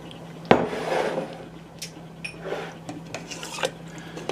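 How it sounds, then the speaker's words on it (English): A utensil stirs broth in a pot for rabbit stew, opening with one clanking knock against the metal and followed by soft, close scraping and swirling, with a few light taps. "Stir it around."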